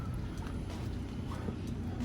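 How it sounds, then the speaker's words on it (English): A steady, loud low rumble of a diesel engine and a generator running without pause, a constant machine drone filling the whole clip. "didn't think that their generator was loud enough, so they started up their diesel motor too"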